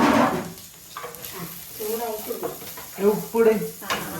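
Onion frying in a hot pan sizzles softly while being stirred, with light clinks of a utensil against the pan and a person talking nearby.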